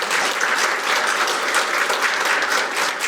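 A crowd applauds steadily throughout, dense clapping at a constant level with no pauses.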